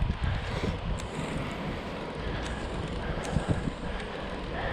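Wind buffets the microphone on a steep hill outdoors, a continuous loud rumbling roar with occasional gusts.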